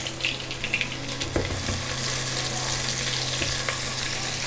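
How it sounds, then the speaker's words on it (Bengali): A cup of chopped onion dropped into oil already used for frying birista onions: a continuous bright sizzle with occasional stirring clatters, steady and close throughout. "বেরেস্তা ভাজা তেলেই এখানে দিয়ে দিব 1 কাপ পেঁয়াজ কুচি।"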